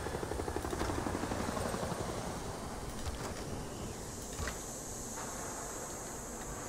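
Helicopter rotor thrum from the strategy video game Civilization VI, a steady mechanical whir with faint rhythmic chopping, fairly quiet and alone throughout.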